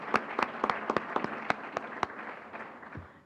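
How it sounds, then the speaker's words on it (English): Scattered applause for a panel at a 2013 fair housing summit: a dozen or so sharp, separate claps from a small audience, fairly close, thinning out and fading toward the end. "Let's give them a round of applause"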